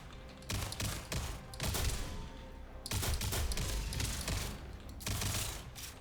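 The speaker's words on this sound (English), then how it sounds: "this pistol is not full auto. It's about as fast as you can click." A semi-automatic pistol fired in a sci-fi video game, bursts of sharp, rapid shots as fast as the trigger is clicked, in several loud clusters separated by brief pauses.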